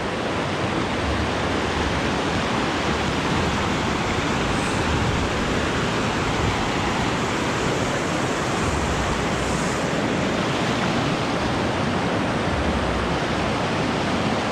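Mountain river rushing over stones at Kasol in Himachal, a steady, dense, broadband roar of flowing water close by, continuous and unbroken throughout with no voices.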